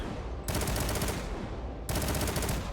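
Rapid automatic gunfire from the Lord of Wolves weapon in Destiny 2, two sustained bursts of fast, dense shots, loud and close, separated by a brief dip.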